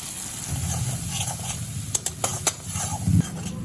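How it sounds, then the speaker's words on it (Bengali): A ground paste of ginger, cumin and turmeric, with a little sugar, fries in a pan with a steady low sizzle, and a spoon clicks against the metal several times. "এই মশলা ভাজার মধ্যে আমি হাফ চামচ চিনি দিলাম।"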